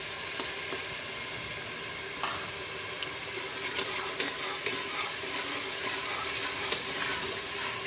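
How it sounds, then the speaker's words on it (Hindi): Whole spices drop into hot oil in a pot for a restaurant-style chicken and chickpea dish, setting off a steady, close, crackling sizzle that holds evenly throughout with small pops. "अब इसमें डालेंगे खड़े मसाले"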